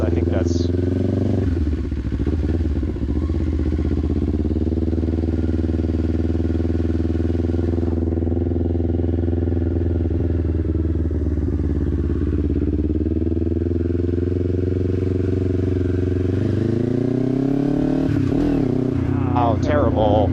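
A motorcycle ridden during clutch-control practice, its engine droning steadily and loudly with shifting pitch and rev changes near the end, up close for the whole stretch.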